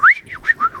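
A man whistles in short rising and falling chirps that imitate birds outside, a quick series of four or five close, clear notes with no talking.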